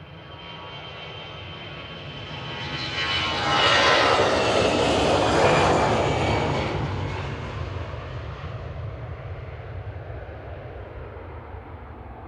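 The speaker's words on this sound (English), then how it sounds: "Iberia departed in parallel back to Madrid." An Iberia Airbus A320 Classic jet departs Manchester Airport for Madrid, its engine roar swelling to a loud broad peak as it passes, then slowly fading into a distant rumble.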